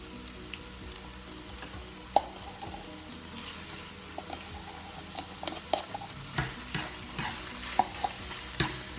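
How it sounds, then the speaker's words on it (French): A spoon stirs a simmering tomato sauce with thyme in a pan, a soft steady bubbling sizzle with scattered scraping clicks that grow more frequent toward the end. "On mélange bien."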